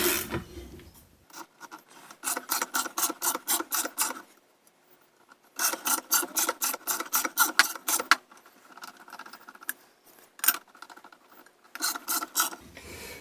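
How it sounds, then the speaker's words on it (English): Rapid mechanical ratcheting clicks from a hand-cranked bead roller forming a bead on a pipe, in bursts, rhythmic and close, with short pauses between cranking runs and a grinding metallic edge. "it'll actually rotate itself around the top of the pipe and form the bead"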